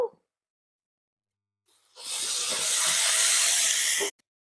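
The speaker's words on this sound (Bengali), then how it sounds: "মশলাটাকে ভালো করে কষে নিয়েছে, এবার দিয়ে দেবো ওল ডাঁটা সেদ্ধ।" Boiled elephant foot yam stalks hit a hot pan of fried spice paste in Bengali home cooking, setting off a loud, steady sizzle that lasts about two seconds before stopping abruptly.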